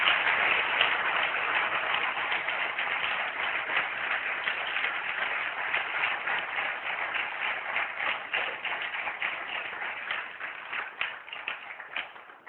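A church congregation applauds in rhythmic, sustained clapping, many hands together at moderate distance, steady and slightly fading toward the end.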